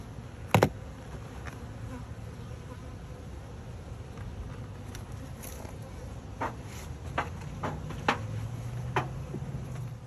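Honeybees buzz around a small nucleus hive with a soft, steady hum, and a few brief clicks and taps are scattered through it.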